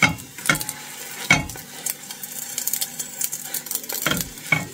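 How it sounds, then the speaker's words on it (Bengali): Roti frying in oil in a pan, a steady close sizzle broken by several sharp scrapes and stirring clacks of a utensil against the pan. "এখান থেকে রুটিটা ভাজা করে নিতেছি।"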